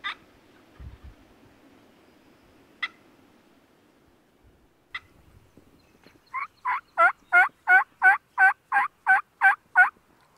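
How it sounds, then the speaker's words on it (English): Wild turkey toms crossing a large field let out a loud, rapid rattling gobble of about a dozen pulses near the end, preceded by a few sharp, isolated clicks and quiet stretches. "3 toms heading across the large field"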